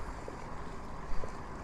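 Steady wind rushing and buffeting against the microphone while riding a motorbike on a straight road, a broad continuous roar with a brief louder gust near the end.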